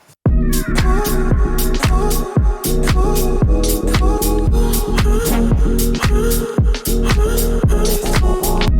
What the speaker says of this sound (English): added some vocal chops that sounds like this